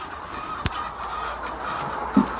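Hens on the floor of a layer poultry farm let out a few short clucks, faint and spaced apart against a low background hum of the shed.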